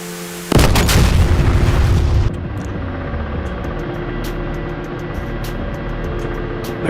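A tank cannon shot hits another tank in a military video game, a sudden loud boom with a roaring blast that cuts off after about two seconds, followed by lower rumbling and faint clicks.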